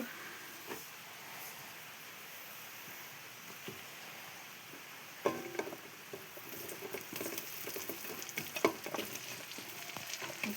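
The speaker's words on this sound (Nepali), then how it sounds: "अब चाहिँ म चिकन हाल्दैछु।" Already-fried chicken pieces added to a spice masala in a hot pan, a soft low sizzle and patter with scraping stirs growing busier after the chicken goes in, no talk.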